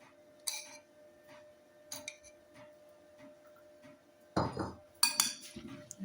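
A spoon clinks and scrapes against a bowl while chickpea chaat with yogurt, salt and chaat masala is stirred: sparse light taps at first, then a closer, busier cluster of clattering strokes toward the end.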